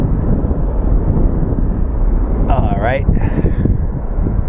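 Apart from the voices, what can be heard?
airplane taking off from Phoenix Sky Harbor airport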